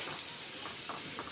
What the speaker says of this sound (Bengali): তেল গরম হয়ে গেছে, পেঁয়াজ দিয়ে দিলাম। কিছুটা কাঁচামরিচ, পেঁয়াজটা আমি সুন্দর করে ভেজে নেব।